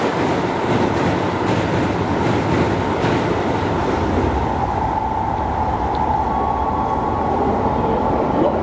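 A Keisei 3100 series train rumbles steadily along the rails as it arrives, a loud continuous roar with faint clattering underneath, close by and with no one talking.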